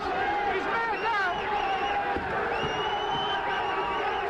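A boxing crowd on its feet cheers and whoops loudly and steadily, a dense roar of voices with shrill shouts rising over it and a commentator talking throughout.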